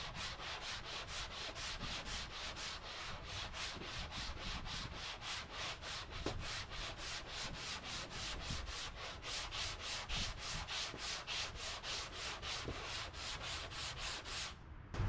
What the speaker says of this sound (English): We're trying to sand this down enough so that this matches it.